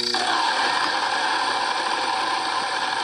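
Grain mill grinding hard wheat, a loud steady mechanical whir and rattle starting abruptly and running continuously, close up with no talk.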